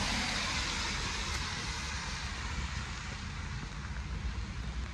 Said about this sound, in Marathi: साईडने रोड आहे त्यामुळं गाड्यांचा खूप सारा आवाज आहे.